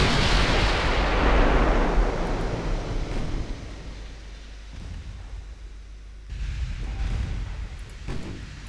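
Naval guns firing armor-piercing shells in a 1920s battleship naval strategy game: a heavy, booming cannon blast that rolls out into a long rumbling decay, followed by another deep salvo near the end, loud and without speech.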